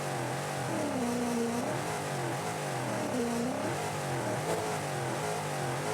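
A rally car engine in the video game Dakar 18 revs steadily, its pitch rising and falling in repeated swells over a constant drone, close and continuous with no voices.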